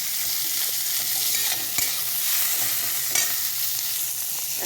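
Potatoes and black cumin seeds frying in a little oil, a steady close sizzle with occasional stirring scrapes and a couple of brief clinks.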